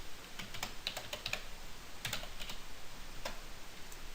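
Keystrokes on a computer keyboard rattle in quick irregular bursts, soft and close, while a nurse enters a physician's name into a hospital order form, with no voices.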